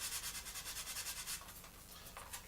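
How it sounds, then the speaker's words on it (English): A sanding stick rubs over a 1/48 scale Academy F-4B Phantom plastic model, giving a soft, rhythmic scratching of quick back-and-forth strokes, close and quiet, that slows and fades toward the end. "we're just going to come in with our sanding stick"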